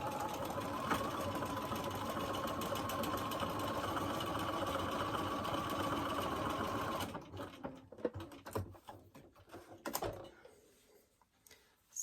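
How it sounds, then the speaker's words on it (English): A sewing machine runs a stretch stitch through a scrap of fabric, a steady fast mechanical whirr for about seven seconds, then breaks into short stop-start bursts and clicks before falling quiet. "It's a stretch stitch and it has a lot of stretch built in."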